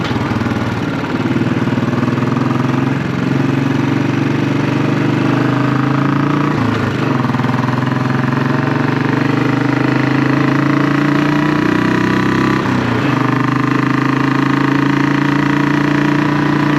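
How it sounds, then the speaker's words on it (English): A classic 500 motorcycle fitted with a Hitchcock's Goldstar exhaust and swapped downpipe idles loudly nearby, a steady low thumping drone with a few brief throttle blips. "It'll be interesting to see how loud it comes across on the video. Definitely louder with that downpipe switched out."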